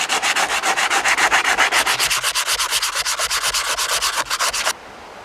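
Rapid, steady back-and-forth scraping of sandpaper on a rusty cast-iron pan, loud and close, about twenty strokes in even rhythm before stopping abruptly.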